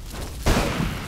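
An explosion from a thrown mine in the video game Duke Nukem Forever, a sudden loud burst about halfway through that rumbles and crackles briefly before settling into a noisy game background.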